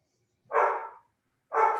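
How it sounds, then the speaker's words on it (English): Dogs bark inside a house: two separate, moderately loud barks about a second apart, with silence between them. "I've got dogs that are just going crazy in my house."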